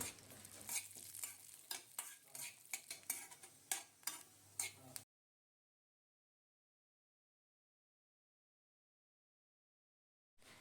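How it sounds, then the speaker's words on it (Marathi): Cashew and almond slivers roast in ghee in a pan, with a soft sizzle and repeated scraping stirs for about five seconds before the sound cuts to silence. "ड्रायफ्रूट्सला तुपामध्ये भाजून घ्यायचं। छान थोडंसं लालसर होईपर्यंत ड्रायफ्रूट्सला भाजायचं।"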